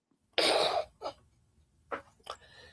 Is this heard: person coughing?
yes